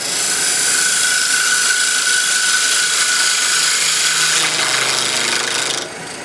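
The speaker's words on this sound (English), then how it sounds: "Now I'm going to use my double-edged negative rake scraper." Wood turning on a lathe with a double-edged negative rake scraper gives a steady, close, hissing scrape that runs continuously and eases off lighter near the end.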